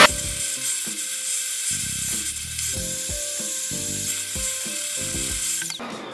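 A vacuum sucks dust from the slots of an old, slow 14-year-old laptop, giving close, continuous whirring and rattling with shifting whiny tones as the nozzle moves across the openings.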